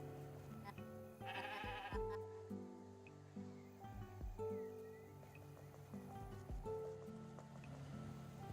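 Sheep in the video game Discounty let out several wavering bleats, fairly close and clear over a quiet game soundscape.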